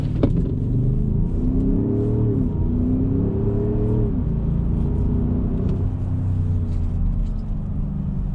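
Audi SQ7 diesel-engine car driving, a deep steady engine rumble with rising and falling drone as it accelerates and shifts, heard from inside, continuous and fairly loud.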